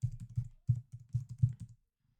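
A word being typed on a computer keyboard: a quick run of about a dozen close, crisp key clicks in an uneven rhythm, then silence.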